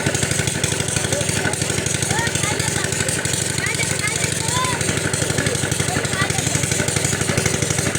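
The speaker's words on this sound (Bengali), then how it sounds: "শ্যালো মেশিনের শব্দ নিশ্চয়ই আপনারা শুনতে পাচ্ছেন" A shallow tube-well water pump engine chugs steadily and loudly, a rapid rhythmic putter running without pause, close to the listener, during fishing in mud.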